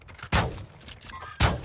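Gunfire in the video game Call of Duty DMZ: two sharp, loud shots about a second apart over a low battle din, with faint distant pops in between.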